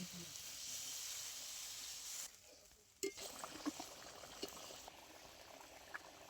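Fish curry gravy with potatoes bubbling in a pot, a faint steady simmering hiss that drops off partway, then soft scattered pops and small clinks, heard up close and quiet.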